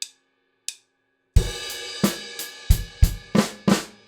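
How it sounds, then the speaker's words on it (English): A drum fill played alone, close and clear, in a rock groove: kick drum hits followed by snare flams. Sharp separate strikes land in a steady rhythm after a couple of light opening taps. "There's kick drum on 3 and flams on the snare on 4 and."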